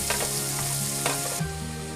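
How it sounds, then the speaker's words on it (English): Continuous crackling sizzle of onions frying in a pan, with occasional stirring scrapes and a slight change in tone near the end. "we are putting the onion and we are going to roast them till they are light golden brown"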